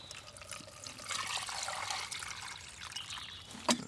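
Water from a bought bottle pours and trickles into an MRE heating bag outdoors, a continuous splashing gurgle of moderate loudness ending with a few sharp plastic rustles.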